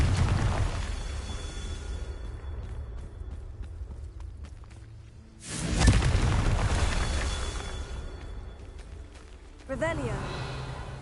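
A Confringo blasting spell going off in a video game: one loud booming explosion with a long rumbling tail, followed by a smaller burst, set among running footsteps and game sounds.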